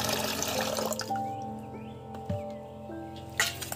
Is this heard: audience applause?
no